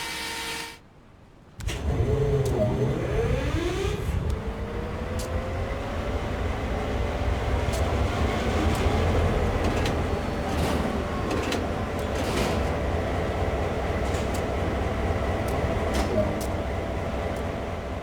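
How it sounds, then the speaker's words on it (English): GP38-2 diesel locomotive power unit cranking to life after a brief quiet moment, then settling into a steady, loud mechanical drone with a rising whine and occasional clanks, running continuously and alone. "With the power unit running, head back to the cab."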